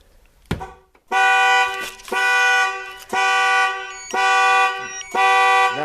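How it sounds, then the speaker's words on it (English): Nissan Armada car alarm sounding after a shock-sensor trigger: loud, close, harmonic horn-like blares in a steady repeating pattern, about five long blasts each roughly a second long, after a brief sharp knock at the start. "now the alarm is going off."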